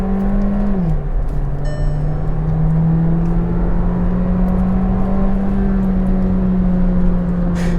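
A Volkswagen Virtus sedan with a 1.5 TSI engine and DSG gearbox pulls away on light throttle, a smooth, loud, steady engine hum dipping briefly at a gear change and then holding an even pitch.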